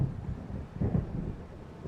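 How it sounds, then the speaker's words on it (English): A distant, low rumble of thunder rolls beneath steady storm noise during a coastal scene in the video game Alan Wake, faint and continuous throughout. "It seems there's a storm coming."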